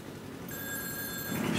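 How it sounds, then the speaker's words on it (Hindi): A telephone rings indoors in a short burst of steady electronic tones that starts partway through, over low room noise with no talking. "शेंकी दा फोन आ गया।"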